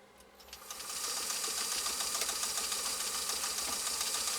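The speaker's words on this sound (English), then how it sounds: "All right, here we go is our next decorative stitch off." A PFAFF 360 sewing machine spins up and runs a decorative stitch, its rapid, even needle clatter building over the first second and then holding a steady, moderately quiet mechanical hum.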